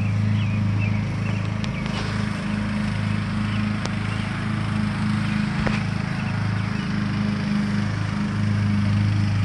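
A petrol lawn mower cutting grass in a backyard near an apple tree runs steadily throughout, a continuous loud engine drone with a few faint knocks and clicks over it.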